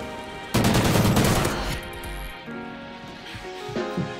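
Gunfire in the shooter Call of Duty: Ghosts: a loud, dense burst of rapid automatic shots rattles for about a second, then thins into scattered quieter shots and clinks over a low ambient bed.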